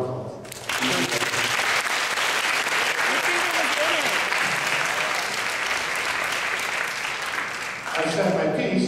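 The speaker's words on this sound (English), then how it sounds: "they really do deserve a round of applause" Applause from an audience at a ceremony honouring a senior boys' basketball provincial championship team, a dense, loud burst of clapping that starts suddenly and runs steadily for about seven seconds before cutting off, with a voice around the edges.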